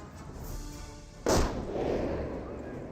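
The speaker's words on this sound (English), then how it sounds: "Oh wait, was that a booby trap on the building?" Booby-trapped building blowing up in Company of Heroes: one sudden, loud blast cutting through quieter battle ambience, followed by a lingering rumble of debris.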